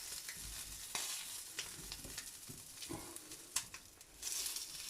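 Sausage frying in rendered fat in a frying pan gives a steady close crackling sizzle, broken by several sharper pops and utensil scrapes, with no talk.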